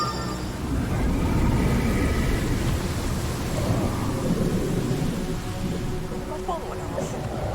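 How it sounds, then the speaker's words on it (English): Heavy in-game thunderstorm in Genshin Impact, a steady wash of rain and rolling thunder rumbling throughout, with a voice talking over it. "Oh my god, it's some crazy storm."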